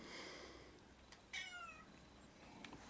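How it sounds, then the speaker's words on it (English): A house cat meows indoors, a faint short sequence of two or three quiet mews against a low room background. "That's my cat meowing."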